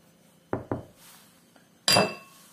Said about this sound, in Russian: Размешаем сухие ингредиенты.